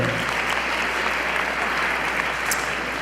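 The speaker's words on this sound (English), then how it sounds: "Let's give her a round of applause." Steady applause from a church congregation at a Sunday service, a dense, even wash of clapping that holds for the whole stretch with no one speaking over it.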